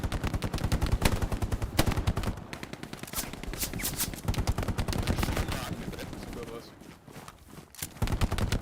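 Rapid gunfire in the World War II shooter Hell Let Loose, dense bursts of machine-gun and rifle shots crackling near and loud in steady rhythm, with a voice talking over parts of it.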